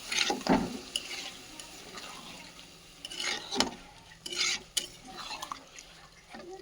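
Egg curry masala being stirred in a pan with a utensil, several sharp scraping strokes against the metal over a low sizzle, close by and with no talking.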